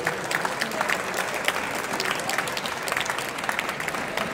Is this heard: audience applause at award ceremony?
yes